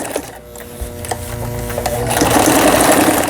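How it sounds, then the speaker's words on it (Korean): A repaired Brother Prestige 20 sewing machine stitching a quilting pattern, its steady mechanical whir and rhythmic needle chatter building louder and denser toward the end, close up, with no one talking. "누빔 바느질, 여기 이제 바느질 패턴 나오죠."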